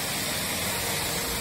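The Kali Karet river near Purbanala in Jatisawit village, Bumiayu, Brebes, Central Java, flowing water as a steady broadband rush that holds an even level throughout, close and continuous with no voices.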